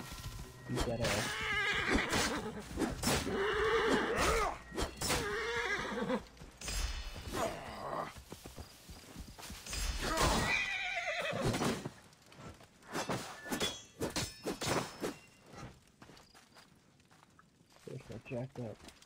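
A horse whinnies and snorts loudly nearby, with hooves clopping and shuffling between the calls.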